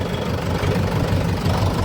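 A tractor engine runs outdoors with a steady, close, low rumbling drone and a faint knocking pulse, with no voices over it.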